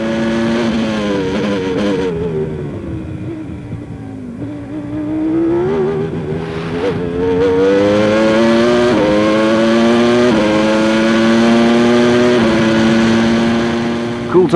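1994-season Formula 1 race cars scream past with loud, high-pitched engine whine rising and falling as they shift and accelerate, one car stuck behind a Ferrari, with a commentator's voice faintly under the roar.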